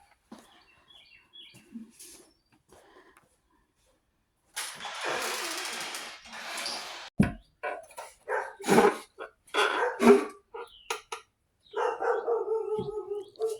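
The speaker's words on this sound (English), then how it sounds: "I'm gonna go see what the dogs are barking at." Dogs bark at a distance in a quiet house, a few soft calls early, then a run of loud, sharp barks in irregular bursts that echo and fade between.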